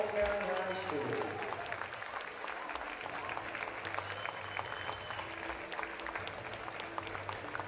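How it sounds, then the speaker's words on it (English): Audience at a Marshall County high school basketball game applauds graduating seniors and their parents, sustained dense clapping from a crowd filling the whole stretch at steady volume, with a voice briefly audible at the start. "Please give these seniors and their parents a round of applause for their hard work and dedication"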